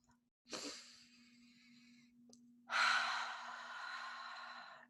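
A slow, deep breath taken close up in a quiet room, a long inhale followed after a pause by a fuller, breathy exhale, with a faint steady hum beneath.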